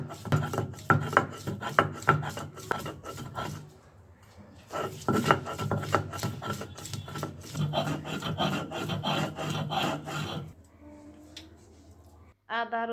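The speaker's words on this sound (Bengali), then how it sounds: "এবারে এই রসুন এবং আদা থেতু করে নিব, এরপরে মিহি করে বেটে নিব।" Ginger and garlic are crushed and ground into a paste for Bengali prawn kofta, giving repeated rhythmic rasping and rubbing strokes in steady bursts, with a short pause near four seconds and a few sharper knocks toward the end.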